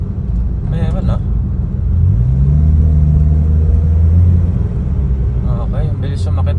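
A Honda Brio Gen 2 with automatic CVT and a Datatec Daytona Pro throttle controller revs in normal mode, its engine rumble rising in pitch and holding steady before easing, heard close with faint voices around it.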